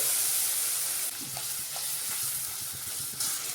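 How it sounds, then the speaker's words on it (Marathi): Tomato puree frying in oil in a pan for a drumstick (shevga) vegetable curry, with a steady, loud close sizzle and a few soft spoon-stirring scrapes, no voices. "आता आपल्याला टोमॅटोची प्युरी छान तेल सुटेपर्यंत परतून घ्यायची"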